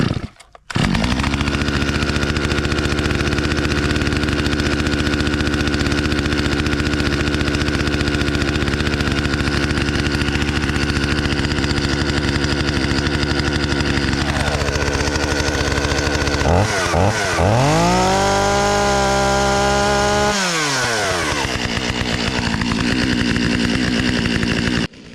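A petrol chainsaw, started at half choke, idles with a steady buzzing drone, its pitch rising in two brief throttle revs near the end before settling back, up close while clearing a fallen dead tree.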